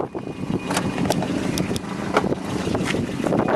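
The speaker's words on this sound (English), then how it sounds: "you can hear that exhaust leak" A 1990 Volvo 240 DL engine with an exhaust leak runs close by, giving a rough, uneven rumble with sharp ticking pops at irregular intervals through a steady noisy wash.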